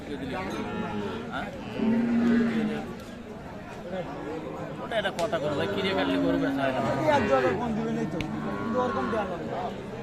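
Sahiwal cows mooing at a busy cattle market, several low drawn-out moos rising over constant crowd chatter and nearby talking voices.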